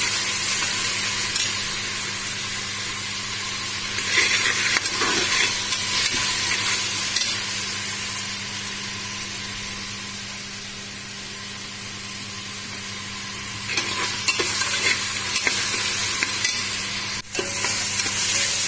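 Ginger and garlic sautéing in a pan for mutton kulambu, a loud continuous frying hiss that swells with periodic stirring, close and steady throughout without speech.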